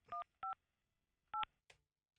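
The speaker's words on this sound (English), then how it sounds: "All right, calling up Suzy Lopez, Hillsborough County State Attorney" Touch-tone telephone keypad dialing a number for a call to a county state attorney: three short dual-tone beeps spaced unevenly, clear and close, followed by a faint click, with no talking.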